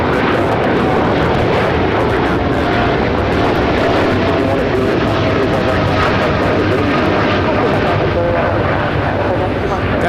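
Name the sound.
American Airlines Boeing 787-9 Dreamliner taking off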